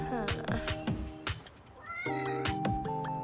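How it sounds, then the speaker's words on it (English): Cat meowing several times in close succession, loud and near, with short rising and falling cries, a brief pause midway, then more meows over faint background. "He's a cute little kitty kitty, huh?"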